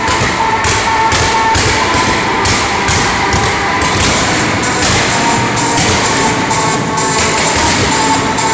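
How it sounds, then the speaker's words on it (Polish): Fireworks bursting over a speedway stadium at a Grand Prix event in Toruń, a dense continuous wash of crackling and thudding blasts with repeated booms, loud and sustained. "Fajerwerki."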